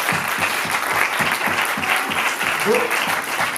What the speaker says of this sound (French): Je vous demande de applaudir